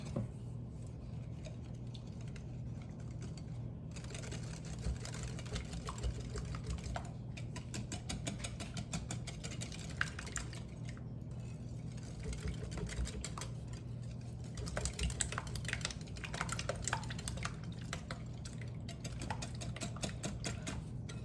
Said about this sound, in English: the eggs, the cornstarch, and I'm going to whisk that together